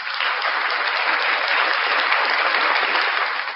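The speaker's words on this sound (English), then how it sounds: "Round of applause for the one and only NCR News Network." A studio audience applauds NCR News Network with a dense, steady wash of clapping that holds evenly loud for a few seconds before tapering slightly at the end.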